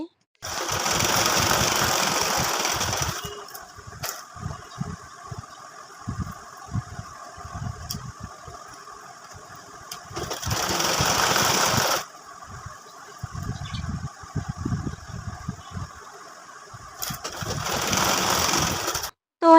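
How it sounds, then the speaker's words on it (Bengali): A sewing machine stitches a petticoat in loud, close bursts of rapid whirring, running about three seconds at a time with pauses between. A voice talks in the gaps. "আবার সেলাই করে নিচ্ছি"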